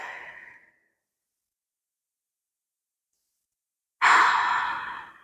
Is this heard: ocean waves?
no